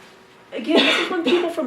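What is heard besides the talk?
sneeze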